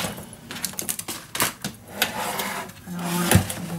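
Plastic clicks and rattles from handling a We R Memory Keepers premium paper cutter while switching its light off, several sharp close clicks with a firm snap near the end.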